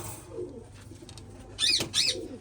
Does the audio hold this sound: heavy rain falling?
no